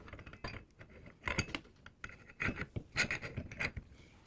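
Metal scraping and clunking as a Sailrite Fabricator sewing machine motor slides onto freshly installed mounting bolts, with several short rasping knocks and rubs in close succession, quiet and near, no talking.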